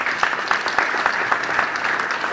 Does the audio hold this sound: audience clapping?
yes